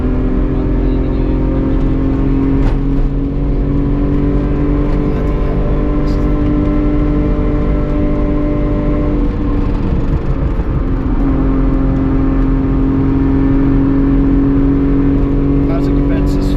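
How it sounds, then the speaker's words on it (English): LS1 V8-swapped BMW E36 Touring track car, engine droning loud and steady with a sustained rev that dips briefly midway and climbs again, close to the microphone. "LS1 powered E36 Touring"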